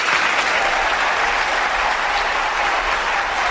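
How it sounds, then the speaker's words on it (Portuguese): Steady applause from a live audience honouring environmental police officers, many hands clapping in a dense, even wash that holds at full level for the whole stretch. "5 segundos de palmas para a nossa Polícia da DEMA."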